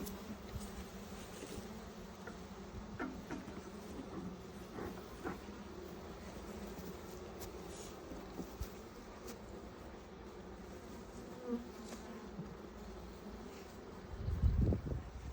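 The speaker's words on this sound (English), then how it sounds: "That's a lot more bees at the top." Honey bees hum in a low, continuous drone around an open hive during a beginner's first inspection, faint and steady, with occasional handling knocks and a louder rumble at the close.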